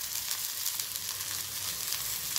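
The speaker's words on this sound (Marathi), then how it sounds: "हे फिश घालून व्यवस्थित असे बारीक गॅसवर परतून घ्यायचे आहेत" Surmai fish fries on a low flame, giving a steady, even sizzle with faint crackles throughout. Nobody speaks.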